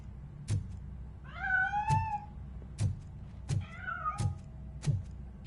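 A cat in the RoboCop video game gives two drawn-out, wavering meows, each paired with sharp knocking thuds that repeat at a steady beat through the quiet scene.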